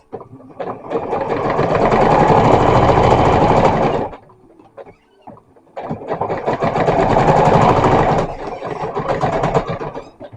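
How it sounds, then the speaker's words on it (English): A vintage sewing machine runs in two steady bursts of about four seconds each, a loud whirring hum with rapid needle clatter, separated by a short pause. "So This is one of the first sewing machines I remember working on for sewing projects."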